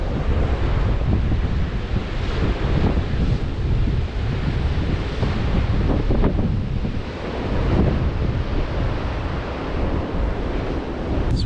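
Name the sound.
ocean waves and wind at a beach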